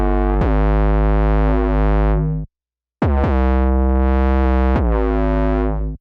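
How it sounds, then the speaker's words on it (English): Deep 808 bass notes from Ableton's 808 Drifter pulse loud and booming in a beat, each with a sharp attack and gliding sustained tail, one brief silent gap partway through, with no voices. "For the 808, I used one of my favorites from Ableton called 808 Drifter."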